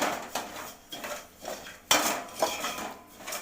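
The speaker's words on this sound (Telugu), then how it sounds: "అందులోని ఒక గ్లాసు బర్ఫీ రవ్వ, అదే దొడ్డి రవ్వ వేసుకుని ఫ్రై చేసుకోవాలండి" A utensil scrapes and stirs coarse barfi semolina roasting over a low flame in a thick-bottomed pot, making repeated metallic strokes at an uneven rhythm, close and fairly loud, with no talk.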